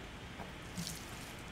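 Water pours in the farming video game Pumpkin Panic as plants are watered, a soft, steady splashing stream with no talk over it.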